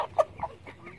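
Broiler chickens clucking close by in short bursts, a few quick calls within a second, with no talk.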